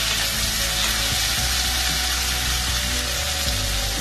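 Chillies and onions frying in a pan for paneer butter masala, a steady loud hiss and sizzle of oil, with faint stirring clinks and no talking.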